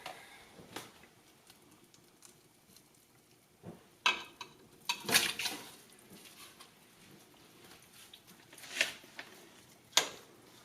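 Ground beef drops into a chili pot and is stirred, making faint scraping and soft sizzling with several sharp utensil clacks against the pot at irregular intervals.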